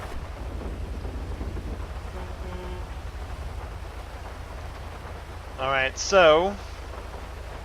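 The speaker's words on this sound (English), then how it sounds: "I'm going to get out of the rain" Steady rain hisses across the whole scene in the video game GTA V, a dense, even wash of noise; someone speaks briefly near the end.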